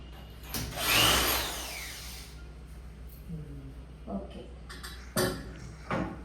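A power drill whirs briefly with a rising, whining pitch while drilling into a wall to mount a water heater, then stops, followed by a few scattered clunks and short sounds nearby.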